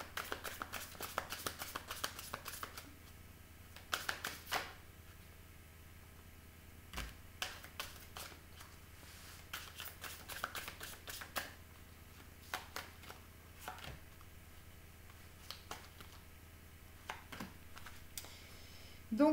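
Tarot cards being shuffled for a reading, heard as bursts of crisp riffling and snapping clusters separated by short pauses, close and fairly quiet against a low steady hum.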